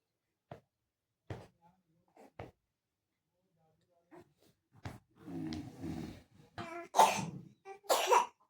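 A young child coughs several times, close by. Short isolated coughs come first, followed by a denser run of harsher coughs and throaty sounds near the end.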